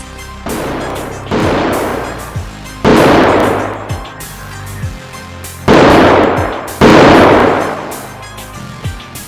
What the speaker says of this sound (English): That's when he heard what sounded like distant gunshots.